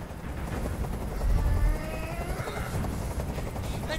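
A helicopter in Detroit: Become Human gives a loud, continuous rotor rumble and chop close by, swelling in the middle, with no talking over it.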